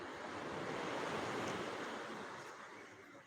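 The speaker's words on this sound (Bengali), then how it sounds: "ধীরে ধীরে জোয়ার কিন্তু বাড়তেই চলেছে অনেকটা গাডওয়াল ছুঁই ছুঁই জল চলে এসছে" Sea waves roll in at rising tide on Digha beach at night, making a broad continuous roar of surf with wind noise that swells and then eases slightly, with no voices.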